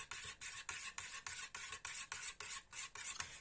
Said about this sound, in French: Bien mélanger.